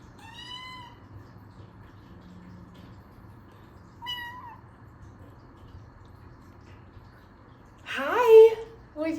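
A domestic cat meows a few times, short tonal calls spaced apart, with a louder, rougher vocalization near the end over a quiet room hum.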